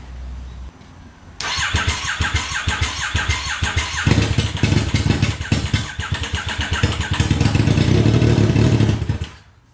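The engine of a coin-operated ride, fed brake cleaner as starter fluid, cranks briefly and then catches, running in a loud, uneven, sputtering clatter that surges and builds before cutting off abruptly.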